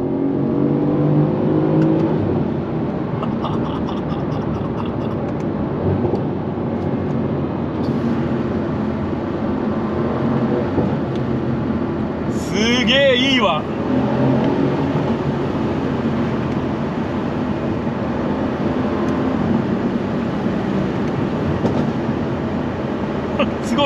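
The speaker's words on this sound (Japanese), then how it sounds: "105キロから今度ね、足で加速してみるわ。" A 600 hp Mercedes C63 accelerating at full throttle on a highway from about 105 km/h, with a loud, steady engine roar heard from inside the car and a sharp rising burst midway.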